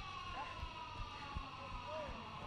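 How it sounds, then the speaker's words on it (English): A full-time siren sounds around a stadium at a men's rugby sevens match, Samoa against Tuvalu at the 2019 Oceania Sevens. It is a steady, wavering tone held through the whole stretch, fairly faint beneath crowd noise and commentary. "the full-time siren rings around the stadium"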